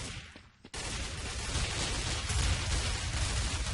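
Pistol gunfire in the video game Counter-Strike Source, a dense, continuous burst of loud shots after a brief quiet gap, filling the clip with sustained noisy blasts.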